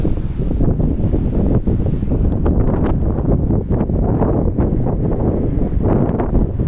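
Cool wind blowing across a rooftop, a steady low rumbling buffet on the microphone with soft gusty swells, fairly loud and continuous, with no talking.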